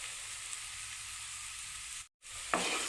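Spice masala for a fish head curry sautés in a pan with a constant, close hiss, briefly cut by a short silent gap before the sizzle and a light stir resume.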